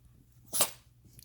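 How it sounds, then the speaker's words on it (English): A dog gives a single short, sharp sneeze close up, standing out briefly from a quiet indoor room. "Oh, you're sneezing."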